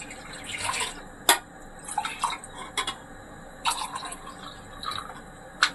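Milk poured from a cup into a pan for a white sauce, heard as soft liquid trickles and splashes with a few sharper drips and clinks, close up and without talk.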